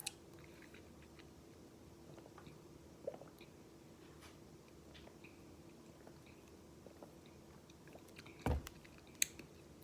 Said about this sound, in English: So I'm gonna start eating.